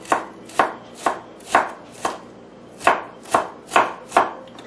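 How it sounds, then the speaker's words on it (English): Knife dicing food on a cutting board for a Chinese hamburger, about nine crisp, evenly spaced chops alone with no talk. "Turn them and just start dicing them up."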